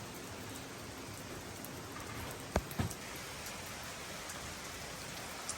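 Heavy rain falls in the Scottish Highlands at Glen Coe, a steady close hiss throughout with a couple of brief knocks near the middle.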